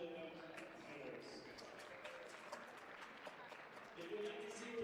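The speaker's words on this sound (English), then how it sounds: "Let's give a round of applause to all of our unofficial event finalists." Faint audience applause for finalists at a Rubik's Cube championship, a soft, even patter of clapping in a large hall, with voices and background murmur mixed in.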